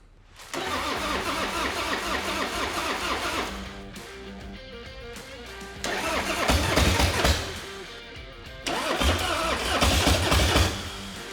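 A chopper-style motorcycle engine, fuel and choke on, cranks repeatedly in three long bursts, churning and sputtering without catching, with pauses between attempts, close by.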